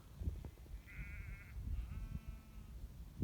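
Sheep bleat along the South Downs Way, with two wavering calls, one after the other and fairly faint, over wind rumble and low outdoor noise.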